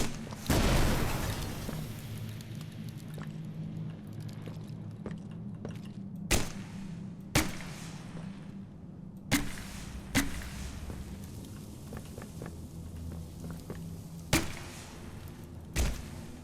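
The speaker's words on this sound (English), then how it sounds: "Was that an explosion?" Muffled explosion in the horror video game Poppy Playtime, a soft boom followed by a series of sharp thumps and cracks spaced out over a low steady hum, with no talking.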